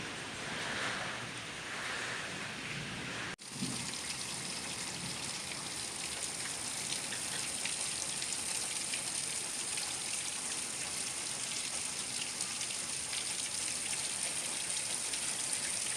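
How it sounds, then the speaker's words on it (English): A steady, dense hiss of afternoon summer rain falls in Florida, heard from indoors and holding even and continuous after a brief break near the start. "Rainy afternoon."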